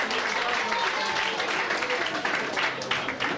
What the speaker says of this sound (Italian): io farei un applauso a Marcello perché è stato bravissimo